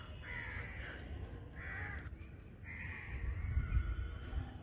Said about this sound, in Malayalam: കാക്കേനെ കുളിക്കുകയാണ് ഇവിടെ